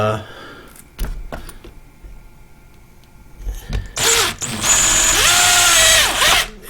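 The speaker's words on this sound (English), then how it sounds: "I'm going to take all these and I'm going to use my 1/8 inch drill bit." A power drill with a 1/8 inch bit bores into polycarbonate sheet. After a few clicks and handling knocks, the drill whirs loudly for about two and a half seconds at close range, its pitch dipping as it bites into the material.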